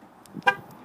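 Key fob lock chirp from a 2020 Chevrolet Blazer RS AWD, a short, faint electronic chirp with a softer click just before it, close by and alone.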